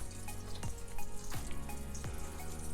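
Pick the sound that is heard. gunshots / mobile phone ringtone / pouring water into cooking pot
pouring water into cooking pot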